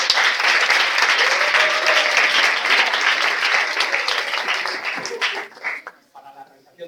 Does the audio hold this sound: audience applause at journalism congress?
yes